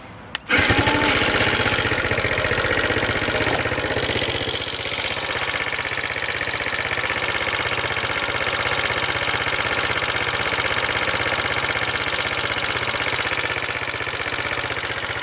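Car engine of a revived vehicle started by tapping wires together, catching almost instantly after a brief silence, then idling steadily and loudly for the rest of the clip without voices.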